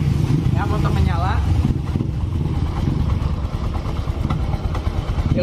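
Yamaha Mio M3 scooter engine idling nearby with an even low rumble and light mechanical clatter, while a person talks over it briefly.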